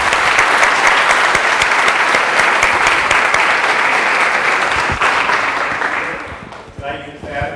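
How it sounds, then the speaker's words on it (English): An audience at a lecture on Smalltalk patterns gives a long round of steady clapping that gradually thins and fades, and a voice begins to speak at the end. "please clap for him."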